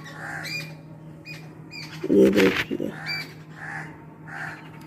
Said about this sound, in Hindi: चिड़िया लोग तो मस्त गाना गा रही है